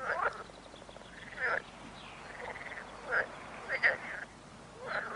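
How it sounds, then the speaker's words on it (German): Several frogs croak in short, nasal bursts at irregular intervals, close by, over a faint outdoor background. "Ja, auch die Frösche fühlen sich wieder wohl im Wasser. Da sieht man, womit sie quaken."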